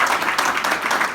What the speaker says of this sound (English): So could we all give Belinda a round of applause?